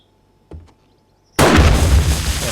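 A landmine blows up in the survival video game 7 Days To Die, heard as a loud sudden blast with a sustained rumbling roar. A couple of faint pops come just before it.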